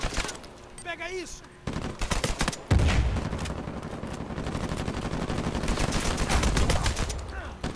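Automatic gunfire in Uncharted 4 multiplayer beta, a heavy burst, then sustained rattling fire and explosive thuds building up, with shouting and game sounds mixed in.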